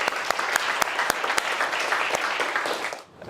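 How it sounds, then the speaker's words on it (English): Closing applause from an audience after a talk, a full, steady round of many hands clapping with a few sharp claps standing out near the front, fading out at the end. "give yourselves a big round of applause"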